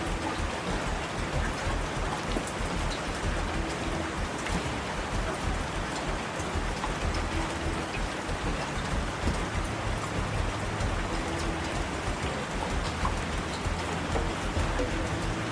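Loud, steady rain ambience from the Primitive Society Simulator video game, a dense hiss of downpour drumming on surfaces that continues unbroken and close with no voices over it.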